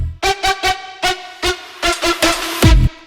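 Bright Serum synth chords drenched in a big reverb, with no OTT compression, hit in a series of short rhythmic stabs ending with a deeper bass-heavy hit, loud and alone.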